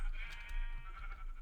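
Several sheep bleat on an automated wool farm in a video game, their calls overlapping steadily and fairly close, with brief louder bursts and no talk.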